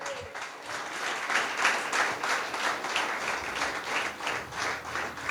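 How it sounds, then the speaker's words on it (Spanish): A church congregation at a Sunday service claps for God, a dense, steady wash of rhythmic applause building after a brief quiet start and holding moderately loud, with no talk over it. "Vamos, alguien que aplauda a Dios."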